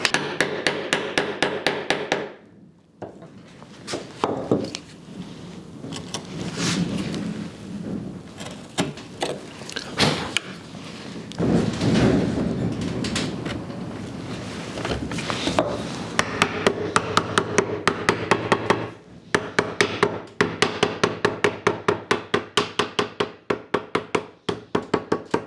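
Hammer and chisel work on wooden mortise and tenon joints for a shoe rack: rapid, sharp mallet strikes in dense runs, broken by pauses and scraping paring, loud and close throughout.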